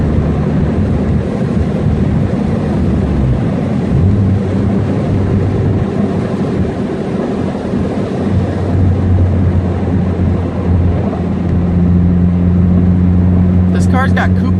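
A Subaru under hard acceleration gives a loud, steady engine drone with rising tones and heavy wind rush throughout, a turbo boost sound mixed into the noise, and speech underneath.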